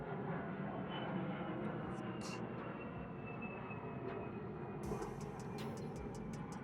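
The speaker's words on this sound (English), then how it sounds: "let me let this plane go over. That bitch is loud too." Airplane passing overhead, a broad steady engine roar that holds loud throughout under a voice, with a few brief higher clicks and hisses near the end.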